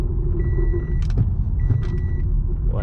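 Car with a P0420 catalytic converter fault driven slowly around a parking lot, steady low engine and road rumble with intermittent clicking rattles and knocks over it, heard from inside the cabin with no talk.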